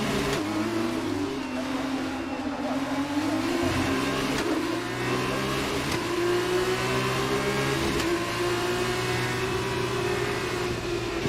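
A Formula 1 car in the F1 22 racing game at Zandvoort, its engine screaming and rising in pitch through steady revving and gear changes, loud and continuous with no talk.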